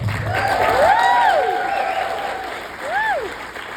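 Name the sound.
audience cheers and applause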